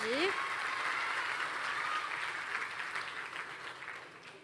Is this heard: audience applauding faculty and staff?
yes